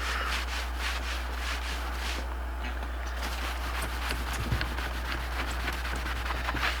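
Decor wax is buffed by hand on Marmorino plaster, producing a continuous soft rubbing swish with quick rhythmic strokes over a low constant hum. Close and moderately quiet.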